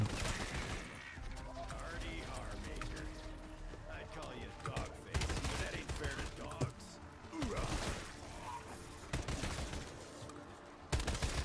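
AK rifle gunfire in Black Ops 7 Zombies, dense bursts of automatic shots crackling almost continuously throughout, with game effects and someone talking over the shooting.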